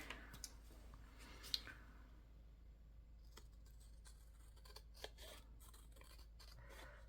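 Scissors trimming the edge of a paper master board in a quiet room, a few faint close snips and rustles followed by a string of small crisp cuts, with no talk.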